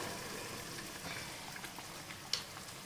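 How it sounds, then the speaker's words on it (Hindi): Black chickpeas (kala chana) with their cooking water go into a frying pan of tomatoes for a masala, giving a faint, steady sizzling patter with one brief louder splash near the end. "अब इसमें हम डालेंगे ये चने, पानी समेत ही डालेंगे"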